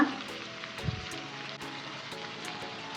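Tomatoes sauté in a pan, giving a soft, continuous sizzle with faint crackles and a small dull knock near the start, steady and close with no talking.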